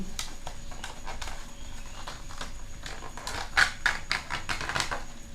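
Handling of a TDR motorcycle brake hose package, a 60 cm rear-brake line, gives a steady run of close crinkly taps and rustles, with a few louder clicks near the end and no talk.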